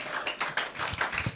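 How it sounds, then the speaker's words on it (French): A church congregation at a Bible convention applauds, a brief, fairly soft burst of many hands clapping together in a steady, dense patter. "Est-ce qu'on peut donner une offrande d'acclamation à Dieu?"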